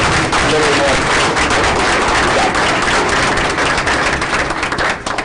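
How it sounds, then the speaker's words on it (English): Loud, sustained applause from a crowd at a school board meeting honoring Ava Powers, dense clapping filling the whole stretch with a few voices mixed in before it begins to thin at the very end. "let's give a big round of applause for Ava Powers"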